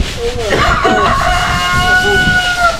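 A rooster crows loudly and close by, its drawn-out call rising and falling, with some background chatter and clucking.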